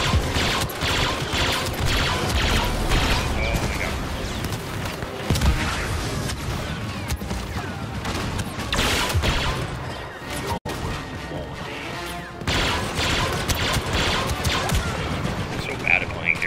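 Dense, continuous battle noise from Star Wars Battlefront II, with bombing explosions and booms layered over rapid gunfire and crashes, loud and sustained throughout with a brief dip near the middle.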